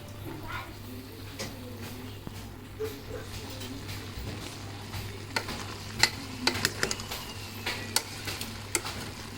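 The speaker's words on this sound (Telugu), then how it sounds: "లివర్ను కలుపుకున్నాక మూత పెట్టుకోవాలి ఫ్రెండ్స్. కొద్దిసేపు ఫ్రై కావాలి." Mutton liver frying in a covered pan gives a quiet, steady sizzle with a low hum beneath and scattered sharp crackles and pops that grow more frequent toward the end.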